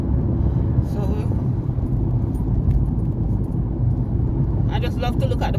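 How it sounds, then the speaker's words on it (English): A car driving the road from Kingston to Albion in St. Thomas, with a steady low road and engine rumble throughout while a person talks over it. "Alright, we're doing some serious driving now."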